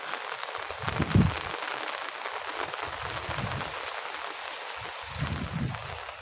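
Light rain drizzles at Anayirangal dam in Idukki district, a steady soft wash of fine patter with a few low muffled thumps underneath and no voices.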